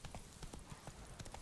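Horse hooves clip-clopping in a steady, even rhythm after the rider spurs the horse on, quiet and fairly distant, with no talking.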